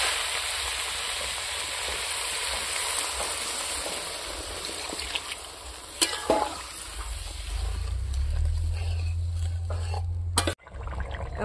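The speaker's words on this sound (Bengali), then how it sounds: "আমি এখন জল দিয়ে দেব।" Water poured into a pan of frying cabbage curry makes a steady hiss and sizzle, with a louder bubbling surge near the end before a brief clatter.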